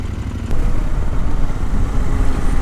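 KTM 790 Adventure R engine pulling from around 1500 rpm, a loud close low throbbing rumble that swells after a brief softer start and holds steady with wind noise.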